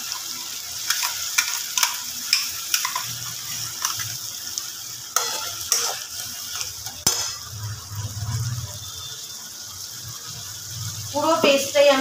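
Onions and ground spice paste sautéing in a pan, a low sizzle under frequent spatula scrapes and clinks, with a voice talking intermittently.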